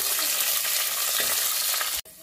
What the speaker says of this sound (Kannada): ನಾಲ್ಕು ಬೆಳ್ಳುಳ್ಳಿ, ಎರಡು ಮೆಣಸಿನಕಾಯಿ, ಸ್ವಲ್ಪ ಜೀರಿಗೆ, ಏನೆ ಕರಿಬೇವಿನ ಸೊಪ್ಪು ಹಾಕ್ಕೊಂಡು ನೀಟಾಗಿ ಒಗ್ಗರಣೆ ಮಾಡ್ಕೊಳ್ಳೋಣ.